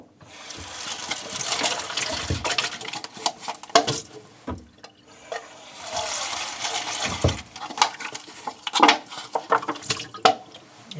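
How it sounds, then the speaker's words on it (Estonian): Water rinses a plastic cup at a sink: gushing tap flow and splashing in two main bursts, with dripping and light clatter of the cup between them, close and fairly loud, no talk. "Loputad lihtsalt korra või paar veega läbi."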